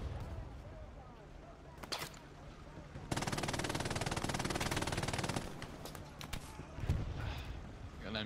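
Distant machine gun fire in a war video game, a sustained rattling burst lasting a couple of seconds in the middle, set among scattered background game sounds with no speech over it.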